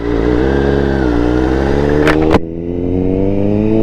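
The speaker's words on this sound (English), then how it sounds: "So the quick shifter is automatically smoother, even just that 1-2 shift just now." A 2021 Honda CBR1000RR-R Fireblade SP with a quick shifter and flashed ECU pulls hard under load, its loud steady engine note rising before a brief clipped break for a gear change, then pulling again.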